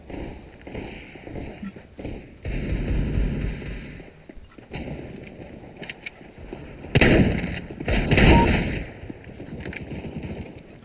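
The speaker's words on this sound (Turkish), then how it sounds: "Pompalı iyiymiş lan" Shotgun blasts in Counter-Strike on the Dust 2 map during a deathmatch, a couple of loud booming shots amid footsteps and other game noise.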